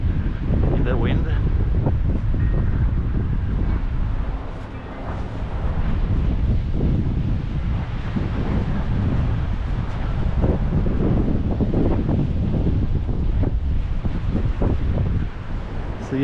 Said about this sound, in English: It's moving in the wind.